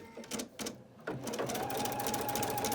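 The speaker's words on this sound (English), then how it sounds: "The first lot of stitches are the basting stitches, and this attaches our fabric to the tearaway." An embroidery machine sews basting stitches attaching fabric to tearaway stabilizer in a hoop, starting with a few short stitch bursts, then running in a steady, rapid, close whirr.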